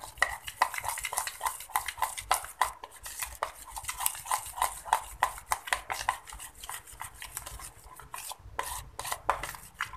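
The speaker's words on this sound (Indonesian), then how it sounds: "akan tambahkan dengan susu kental manis. Ini kita aduk." A spoon stirring fruit salad with sweetened condensed milk in a bowl, making close, repeated clinks and soft wet scrapes in an uneven rhythm, with no voices.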